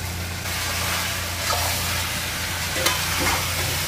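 Chicken curry with vegetables, Nepalese style, simmering and sizzling in a pan, a steady close frying hiss with occasional scrapes of stirring, no voices.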